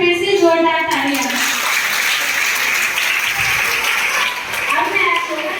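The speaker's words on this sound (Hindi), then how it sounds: "इनके लिए एक बार फिर से जोरदार तालियां।" Loud, sustained applause from a school audience at a role-play event, a dense continuous roar of clapping, with a voice speaking over it at the start and again near the end.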